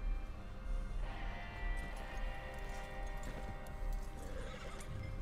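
A horse with a rider whinnies and neighs in drawn-out calls, with faint hoof clip-clops mixed in, heard at moderate distance over a low outdoor rumble.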